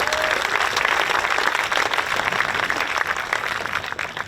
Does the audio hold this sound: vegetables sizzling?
no